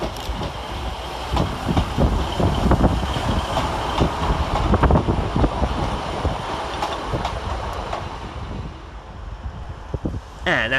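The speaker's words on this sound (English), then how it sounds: "Also arriving to terminate with a Northern Rail service from York is 150-270." A Northern Rail class 150 diesel unit from York arrives at Sheffield station, its rumbling engine and rolling wheels filling the platform with steady low clatter and wind buffeting, easing off toward the end with a brief squeal.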